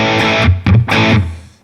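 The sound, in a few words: electric guitar through BIAS Desktop amp simulator, crunchy fuzz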